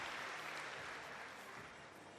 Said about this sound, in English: listen to that lovely reception from the crowd in Osijek